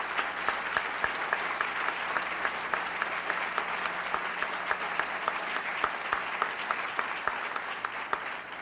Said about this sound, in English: we all ought to give Jean Simon a special round of applause